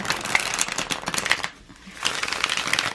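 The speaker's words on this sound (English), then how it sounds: "I need one more shuffle for pile number 3." A tarot card deck is shuffled by hand up close, with crisp riffling and flicking card sounds that pause briefly midway and then resume.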